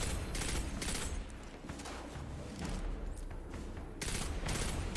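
Rapid bursts of shotgun and other gunfire in the Destiny 2 shooter, dense overlapping blasts filling the scene, loud and continuous with brief lulls.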